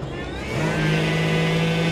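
A supercharged Daihatsu Midget driving near 110 km/h, heard from inside as a loud, steady engine drone whose pitch settles and holds as it enters a braking zone, with no talking.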